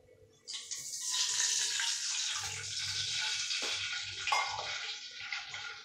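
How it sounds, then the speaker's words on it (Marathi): Water pours steadily into a pot for several seconds, a bright rushing splash with a few small clanks near the end. "त्यात मी पाणी सोडते."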